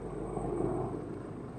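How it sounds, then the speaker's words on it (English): A helicopter passes over Toronto during an outdoor city walk, a steady low rotor rumble that swells slightly and holds at moderate distance, with no talking. "I don't know if I caught the helicopter there"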